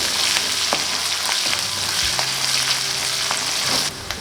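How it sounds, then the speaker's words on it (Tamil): A generous handful of curry leaves spitting and crackling in hot oil for a non-veg curry, a steady close sizzle with a few sharp pops and stirring clinks, no talking. "அதுக்கப்புறம் பார்த்திங்கன்னா கருவேப்பிலை கொஞ்சம் நிறையவே போட்டுக்கோங்க."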